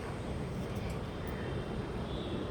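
A jet airplane passes overhead above a rural area with green fields and water, a faint steady roar that stays distant and even throughout, with no voices.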